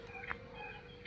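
A chicken gives a couple of short, faint clucks over a steady outdoor background hum.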